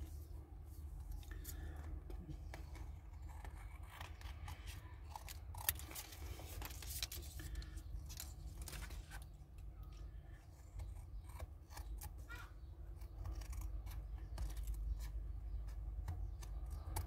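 Long scissors cutting through card, with a run of crisp snips and rasping slices at irregular intervals, close and distinct over a low background hum.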